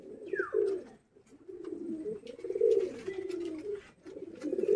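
Racer pigeon, a hen that laid eggs a day or two earlier, cooing in repeated low throaty phrases close by, with a few brief higher calls and light background rustle.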